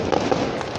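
Christmas-season fireworks in Costa Rica crackle and thud in a dense, continuous volley, loud and fairly near, with overlapping bursts filling the sound.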